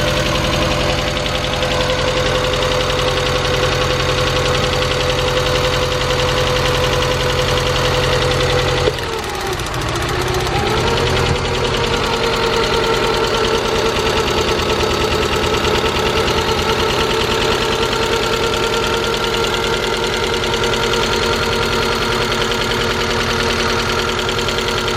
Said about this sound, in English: Feels like it's not running on one of the cylinders.